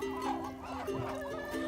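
Backyard chickens, including molting game hen cross and blue splash birds, cluck and murmur close by in a short, busy burst of overlapping calls.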